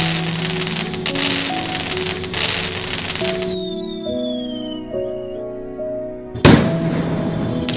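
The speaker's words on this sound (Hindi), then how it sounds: "पटाखे की आवाज सुनकर दोनों की नींद खुल गई" Over a melodic musical background, a sudden sharp bang bursts out near the end, followed by a hissing, crackling rush.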